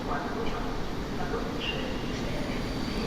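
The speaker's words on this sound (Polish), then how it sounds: "W końcu mamy starą lokomotywę." An old EP07 electric locomotive hauls a PKP Intercity passenger train through Warszawa Zachodnia station, giving a steady, loud rumble of rolling stock and track noise throughout.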